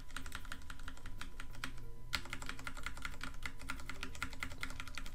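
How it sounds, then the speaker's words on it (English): Rapid, continuous clicking of computer keyboard arrow keys during play of the 1991 game Time Travel from Microsoft Entertainment Pack #4, a steady dense patter with a brief pause midway. "press your arrow keys really fast to get through there"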